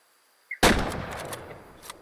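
A single sharp rifle shot at a springbok in the hunting game Way of the Hunter bursts out after near silence, loud and close, followed by a decaying echoing tail.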